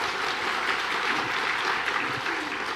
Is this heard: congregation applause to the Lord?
yes